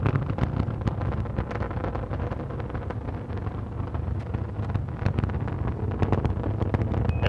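Space Shuttle Atlantis main engines at full throttle during the STS-46 launch, a loud, dense, unbroken roar with crackling texture and wind-buffeted rumble, steady from start to finish with no voices.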